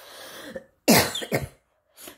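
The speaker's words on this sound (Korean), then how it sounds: "제가 역류성 식도염이 있어가지고 기침이 나와요." Two or three harsh coughs from a person with acid reflux, close and fairly loud, separated by short silences, with a fainter throat sound at the end and no speech.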